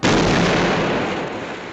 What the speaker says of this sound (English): like this bridge explosion